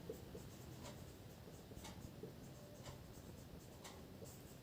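Pen scratching on paper while writing statistics notes, a faint, steady scribble with short strokes and taps under a quiet background hum.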